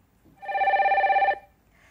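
Telephone ringer in a radio studio signalling a listener's call: one clear electronic ring of just under a second with a fast warbling pulse, near and alone.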